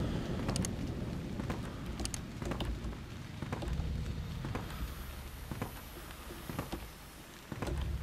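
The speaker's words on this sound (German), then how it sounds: "dieses Gewitter ist verdammt laut" Loud thunderstorm in the horror game Haunt: The Real Slender Game, with steady heavy rain and rumbling thunder, broken by repeated sharp crackling bursts throughout.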